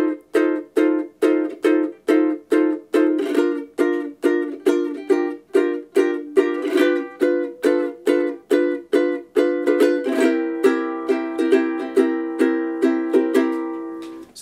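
Strummed ukulele chords play the bridge of a tune in an even, steady rhythm of bright, close, ringing strums, with no voices.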